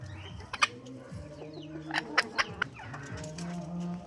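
Spotted breeding-stock chickens cluck nearby on a farm in a few short, sharp bursts over a low murmur of farmyard background noise.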